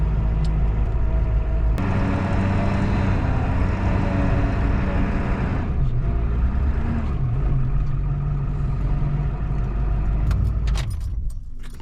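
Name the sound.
truck with whining power steering pump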